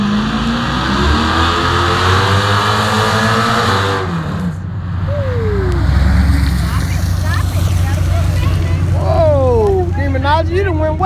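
The drag race car Demonology does a burnout at a Scary Fast 2021 event, its engine roaring loud and close with rising and falling revs, and a voice heard over the noise.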